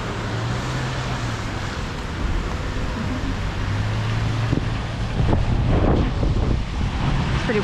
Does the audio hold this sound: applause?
no